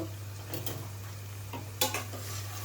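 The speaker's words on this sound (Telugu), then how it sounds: "ఉల్లిపాయలు వేగుతున్నాయి కదండి" Onions fry in a pan on a home stove for a Telugu curry, with faint sizzling under clinks and scrapes of a spoon stirring against the metal, over a steady low hum.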